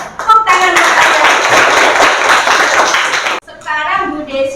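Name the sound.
children clapping in a classroom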